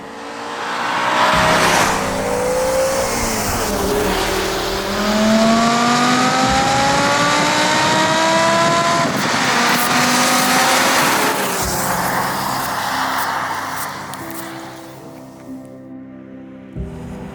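A V10 engine in a BMW M5 estate with a manual gearbox revs hard through several rising pulls, each wailing up in pitch before easing off, loud and close, then dropping to a quieter idle.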